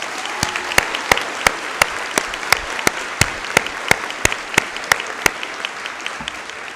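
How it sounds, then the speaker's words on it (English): A round of applause at a SUNY Westchester Community College commencement ceremony, steady crowd clapping with a series of sharp, loud single claps standing out close by. "Let's have a round of applause, please."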